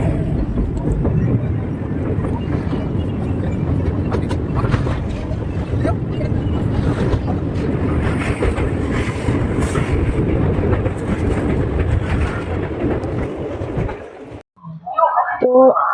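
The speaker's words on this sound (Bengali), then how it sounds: "তো ততক্ষণে বললো ঠিক হয়ে গেছে, ট্রেন ছেড়ে দিয়েছে।" A train pulling away after an engine repair, a loud continuous rumble and rattle of the rail cars that holds steady before briefly fading at the end, with a voice heard alongside.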